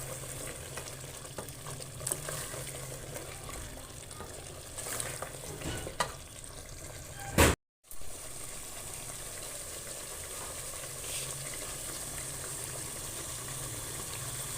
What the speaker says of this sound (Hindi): तो अभी उनके लिए कोरमा बन रहा है